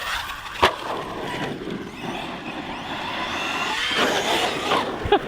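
A radio-controlled car running on a 4S battery whirs and buzzes steadily nearby, its motor pitch rising and falling over sharp bumps and skids as it tears around.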